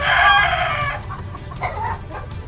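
A rooster crows loudly and close by in one long call, followed by softer clucking from nearby chickens.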